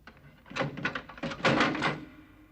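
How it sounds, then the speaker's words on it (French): A door swings shut in a police station interior, a short scrape and a couple of soft knocks before a duller closing thud at moderate distance, with no voices over it. "Fermez la porte."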